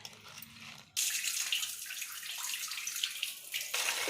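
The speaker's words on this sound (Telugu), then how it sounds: "ఇప్పుడు మళ్ళీ మనం కొన్ని వాటర్ పట్టుకొని స్టవ్ మీద పెట్టుకోవడమే." Tap water rushes into a vessel, starting abruptly after a short quiet moment and then running as a steady, close, loud stream to the end, with no voices.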